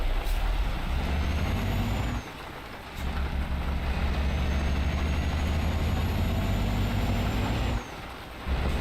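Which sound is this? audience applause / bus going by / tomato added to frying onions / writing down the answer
bus going by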